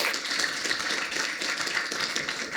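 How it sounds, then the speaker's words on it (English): A conference audience at Innovation Rodeo 2023 gives a round of applause after a talk on building decarbonization. The clapping is even and sustained, with individual claps audible, and there is no speech. "Give them a round of applause,"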